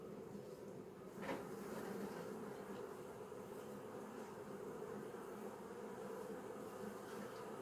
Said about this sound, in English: Try to shake them off if you can, the bees.